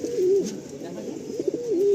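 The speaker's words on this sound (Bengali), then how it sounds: "তো আমরা এরকম সাদা পায়রা প্রচুর দাদার লফটে রয়েছে" Pigeons coo softly in a pigeon loft, with two clear rolling coos separated by a pause. Faint shuffling and muffled background sounds sit beneath them.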